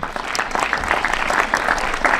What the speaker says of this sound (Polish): Też poprosimy o brawa.